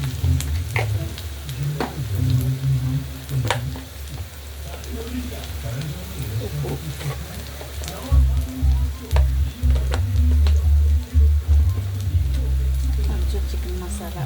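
Ginger garlic paste frying in a pan for homemade pani puri: a steady close sizzle with stirring scrapes, continuing under a voice talking throughout.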